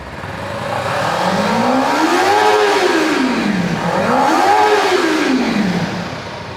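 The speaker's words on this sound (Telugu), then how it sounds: "ఒకసారి మనం బండి ఎగ్జాస్ట్ నోట్ వినేద్దాము" A 2026 Kawasaki Ninja 300 parallel-twin engine is revved twice through its exhaust, each blip rising smoothly to a high wail and falling back, loud and close over a steady idle.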